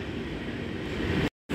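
Freight wagons loaded with iron roll past on an Indian railway line, a close, continuous rumble and rattle that cuts out briefly near the end.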